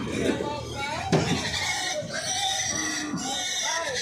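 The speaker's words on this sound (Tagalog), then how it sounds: "Ito po yung mga binabiyahe na baboy." Pigs grunt and squeal close by at a livestock stockyard in Dumaguete, a noisy jumble of calls, while a person talks over them.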